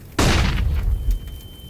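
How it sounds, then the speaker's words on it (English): A flashbang grenade detonates in VRChat with one sudden loud bang, followed by a short ringing tail and a thin steady tone as it fades. "flashbang"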